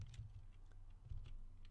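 Light typing on a computer keyboard during a screencast, a few soft scattered key clicks, faint and close, with no talking.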